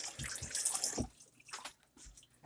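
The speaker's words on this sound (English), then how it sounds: "Wash your hands." Tap water running into a kitchen sink while hands are washed, a steady splashing rush with small drips and clatters, fairly close, alone without talk.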